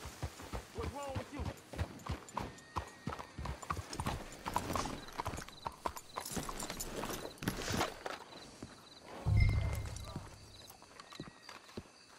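Horse hooves clip-clop in a steady walking rhythm, close and distinct, followed by a horse snorting or whinnying near the end, in Red Dead Redemption 2.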